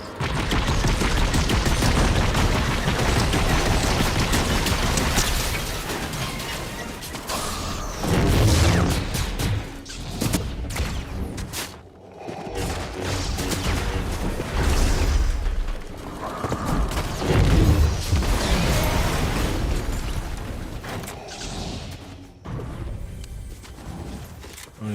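A heavy explosion in a Star Wars–style battle with a TIE fighter, a dense continuous roar of blasts and crashing debris with repeated booming swells, loud and filling the whole stretch.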